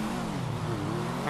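The engine of a mini CB1000 motorcycle revs in a steady, buzzing drone at close range, held at high pitch throughout a brief burst, with wind noise over it.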